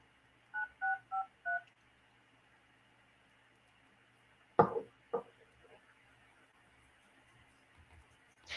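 Four quick touch-tone beeps dial out on a phone for a live call-in show, followed by quiet line hiss and a few soft knocks and clicks, with no talking.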